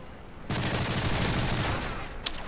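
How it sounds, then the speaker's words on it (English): Sustained burst of rapid gunfire from an enemy strafe run in Call of Duty: Modern Warfare 3, loud and dense for about a second and a half before tapering off, with a brief sharp crack near the end. "Enemy strafe run incoming."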